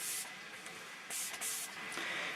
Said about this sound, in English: So I just spray a little bit or a lot.